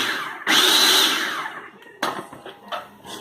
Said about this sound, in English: Put the lid on it, and you're going to pulse it just for a little bit until the chilies are blended together